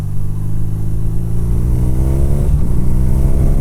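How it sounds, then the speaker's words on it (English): A BMW R nineT twin-cylinder motorcycle engine idles with a deep, even throb, then revs up and drops back, loud and close. "This is a smooth purr, but it does have that aggression when you rev it."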